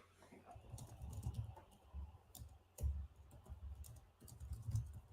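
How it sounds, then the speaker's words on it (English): Keys clatter in irregular bursts of typing on a computer keyboard, close and moderately loud, with scattered louder clicks and no talking. "typing away to Dale"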